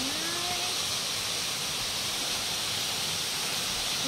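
Steady broadband rush of Dayhag Falls in Sitio Ylaya, Upper Beceril, Boljoon, Cebu, with moderate water flow, continuous and even throughout, heard from a short distance with no voices.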